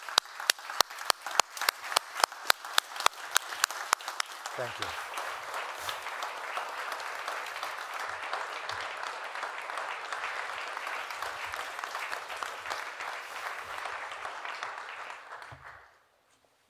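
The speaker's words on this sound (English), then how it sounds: "I ask to give a standing applause to" Economics conference audience giving a standing ovation for the Ukrainian government, beginning with a few sharp, rhythmic claps that swell into dense, sustained applause before fading out abruptly at the end, with a brief spoken voice early on.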